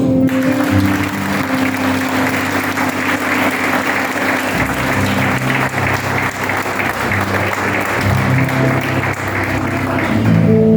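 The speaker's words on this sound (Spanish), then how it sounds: "quiero que se den un fuerte aplauso" Church congregation giving a loud, sustained round of applause during a Spanish-language service, dense clapping over a continuous held musical tone, lasting throughout.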